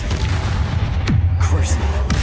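Confringo and Bombarda spell blasts in the video game Hogwarts Legacy land as two sharp, booming impacts about a second apart, each with a falling zap, over a dense, continuous game background.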